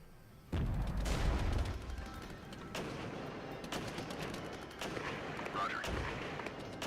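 Mortar artillery fire in the video game MicroProse Regiments, a loud close boom followed by continuous rolling rumble and repeated muffled blasts layered together.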